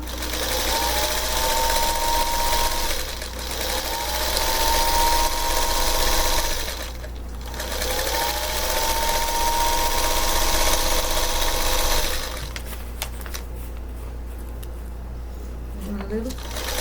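Sewing machine stitching fabric in a home, running in three long steady whirring runs separated by short pauses, close and loud, with a person talking during and after.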